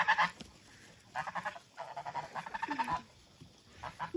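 Curly-feathered goose honking on a farm in several loud, harsh bursts spread across the moment, with quieter gaps between calls and no talk.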